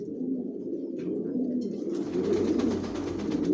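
A racer pigeon sitting on its eggs coos in a low, steady, rolling murmur, close and continuous throughout, with a faint rustle growing behind it toward the end.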